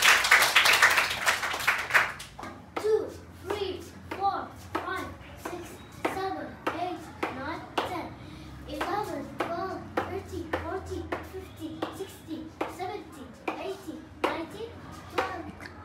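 A primary classroom of young pupils gives a short, sharp burst of group clapping for a child, lasting about two seconds, followed by a voice counting aloud in a steady rhythm.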